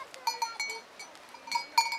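Goats bleating and jostling while being hand-fed at a mountain pasture feast in Puy-Saint-Vincent, France, with short overlapping bleats, a bell-like ring and soft scuffling close by, no talk.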